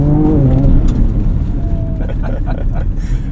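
A 2024 Ford Ranger Raptor drives off-road through a rocky area, its engine note rising and falling as it brakes hard and bounces over the terrain. A voice talks over the steady mechanical rumble.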